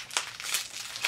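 Wrapping paper crinkles in a few quick close rustles as a taped gift package is torn open, brief and alone without talk.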